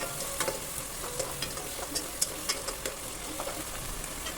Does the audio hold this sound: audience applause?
no